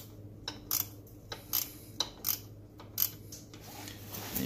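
A wrench works the chain adjuster on a 110cc Chinese ATV, giving a string of about seven sharp, quiet metallic clicks and clinks spaced roughly half a second apart over a low background hum.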